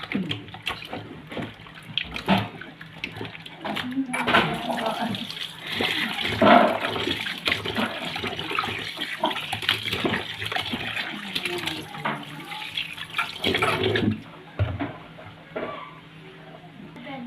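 Tap water gushing and splashing while mumbar, stuffed intestines, are washed with flour, a steady close rush with handling clatter and sloshing that stops abruptly near the end.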